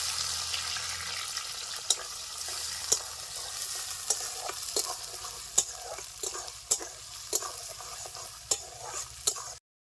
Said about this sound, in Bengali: গরম হয়ে গেছে, ফোড়নে দিয়ে দিচ্ছি তেজপাতা, পেঁয়াজ কুচি,